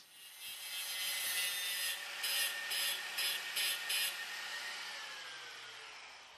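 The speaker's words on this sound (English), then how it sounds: "I then followed up with a mill file to get the desired thickness." A mill file scrapes steel while thinning the locking arc of a handmade compass divider. Steady rasping runs throughout, with a quick series of about six sharper strokes in the middle, close and moderately loud.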